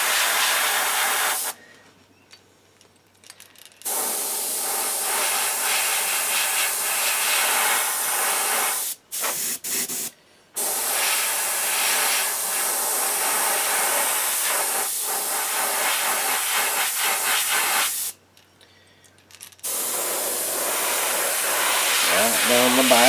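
Airbrush hissing out detail moss green paint onto a cutthroat trout fishing lure in several steady bursts of spray, with short pauses between passes.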